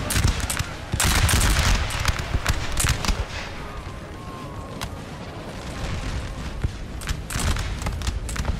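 Gunfire in Napoleon: Total War, massed musket volleys crackling in dense bursts at close range, heaviest at the start, then a steadier rattle of shots continuing throughout.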